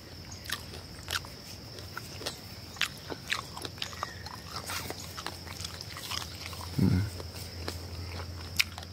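Someone bites and chews a sweet, edible calamansi fruit whole, peel included: repeated crisp, wet crunches and clicks close to the microphone, with a brief low voice-like sound near the end.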